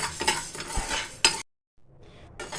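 Urad dal and chana dal frying in a pan, with stirring and the scrape of a spoon against the pan in close, busy bursts that break off into a short silence before the stirring resumes.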